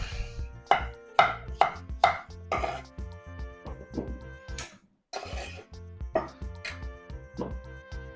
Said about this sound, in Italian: Tagliamo un paio di patate.